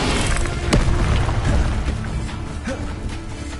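The Incendio fire spell cast in Hogwarts Legacy, a loud booming burst that rolls into a sustained rumbling roar, with a sharp crack early on and smaller pops as it fades.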